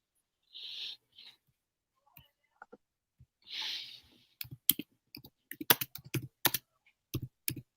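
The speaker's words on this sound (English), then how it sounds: "I can hear you typing." Fingers type on a computer keyboard in a rapid, uneven run of close clicks and clacks during an evening Lego build chat, after a few soft breathy sounds.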